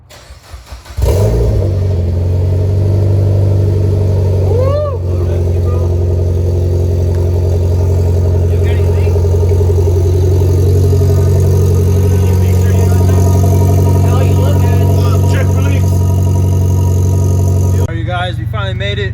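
A Mitsubishi Evo X with a newly installed downpipe and cat-back exhaust starts up and settles into a loud, steady, rumbling idle close by, holding a constant drone with a brief blip early on before it cuts off near the end.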